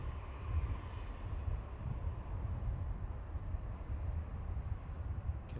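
At Boeing Field, an aircraft taxis past with a distant, steady low engine rumble and broadband roar that stays even and fairly faint throughout, no talking.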